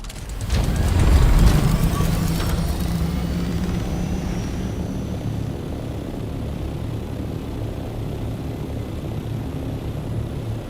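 An aircraft flies in the video game Dune Awakening, giving a continuous droning engine roar with a louder swell near the start that settles into a steady hum, with no talking.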